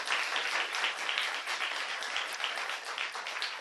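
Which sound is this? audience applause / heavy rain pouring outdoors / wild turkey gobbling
audience applause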